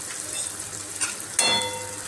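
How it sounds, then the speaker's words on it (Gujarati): Tomatoes sautéing in a pan with turmeric, red chilli powder and coriander-cumin powder for a potato curry give a steady close sizzle, broken by a brief stirring scrape or clatter partway through. "હવે આપણે તેને 2 થી 3 મિનિટ માટે સાતળવાનું છે."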